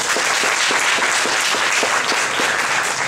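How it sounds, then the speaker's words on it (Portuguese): A lecture audience claps steadily in warm welcome, a dense, even patter of many hands held at a constant level throughout, no voices over it. "vamos aplaudir"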